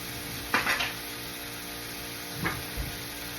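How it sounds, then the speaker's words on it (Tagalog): Shrimp frying in a pan for salt and pepper shrimp, stirred with a ladle: a soft steady sizzle under a few clattering scrapes of the utensil against the pan, one quick burst of stirs early and two fainter ones later. "Ipiprito mo lang siya yung mga hipon."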